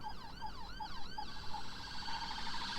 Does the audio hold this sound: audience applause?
no